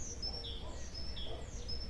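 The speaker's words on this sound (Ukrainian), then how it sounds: "і пташки співають" Faint, high bird chirps repeat several times over a low background hum, distant and thin.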